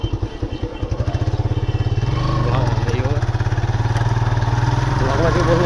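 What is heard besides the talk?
motorcycle engine running while riding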